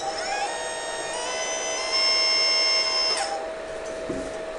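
A radio-controlled model excavator fitted with a hydraulic quick coupler runs with a steady, close electric whine from its pump and motor. The tone rises slightly, holds, then cuts off near the end, with no speech.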